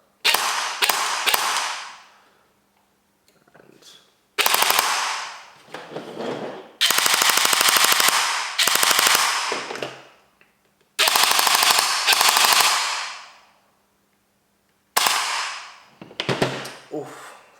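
A Cyma SCAR gel blaster with a 16:1 gearset fires in short bursts of rapid clattering shots, close and loud, separated by silent pauses.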